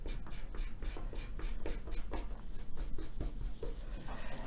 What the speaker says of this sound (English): I'm just going to erase the pencil marks.